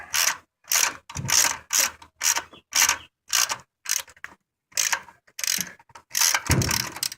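A ratchet with a 1/2 inch deep-well socket loosening a nut on a 700R4 TV cable bracket, a loud close run of about a dozen rapid clicking strokes with short pauses between.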